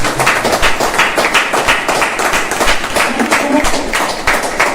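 An audience at a marketing seminar clapping, a dense, continuous patter of many hands at steady loudness for several seconds.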